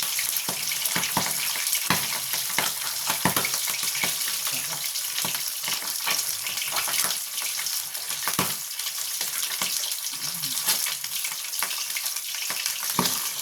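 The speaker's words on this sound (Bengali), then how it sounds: "আমি মাছটা ভাজার জন্য দিয়ে দিচ্ছি।" Pabda fish frying in hot oil crackles and sizzles steadily at close range, a dense continuous hiss with scattered sharp pops and no speech.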